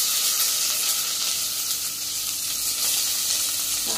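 Onion frying in hot oil with cumin, mustard seeds, cinnamon and red chilli for tomato rice, a loud, continuous close sizzle and hiss that holds steady throughout with no speech.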